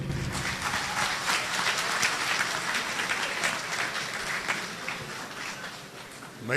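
An audience at a mushaira poetry gathering applauds, a thick sustained burst of many hands clapping that holds steady, eases slightly near the end, then swells again.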